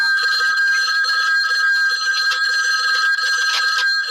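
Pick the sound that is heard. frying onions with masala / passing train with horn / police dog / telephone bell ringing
telephone bell ringing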